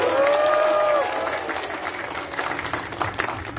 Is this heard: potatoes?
no